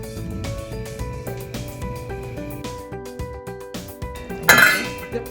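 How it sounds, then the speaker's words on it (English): Spoon stirring homemade tomato soup in a pot, giving a string of light clinks and scrapes of metal against the pot, close and fairly quiet, with one louder clatter near the end and no talk. "I'm gonna give these a good stir."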